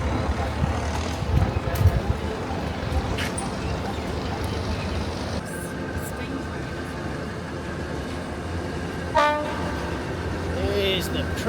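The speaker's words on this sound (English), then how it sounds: "There's the train coming over the River Kwai." A train rumbles across the bridge over the River Kwai on the Thailand–Burma railway amid outdoor background noise, with a horn sounding briefly near the end and faint voices in the background.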